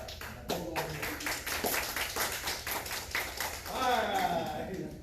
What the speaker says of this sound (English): They clap a lot on this side